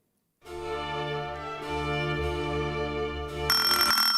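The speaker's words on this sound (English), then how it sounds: "That was an example of a Siciliana, a work in slow 6/8 or 12/8 time characterised by short phrases and simple melodies" An excerpt of a Siciliana by Vivaldi, a slow piece in 6/8 or 12/8 time, plays as sustained melodic instrumental tones. It starts after a short silence and grows brighter toward the end.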